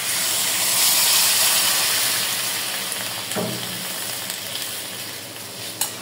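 Hot water goes into a pan of sizzling chili and raw green banana curry base. A loud, steady frying hiss swells and then settles, with a brief surge of bubbling partway through.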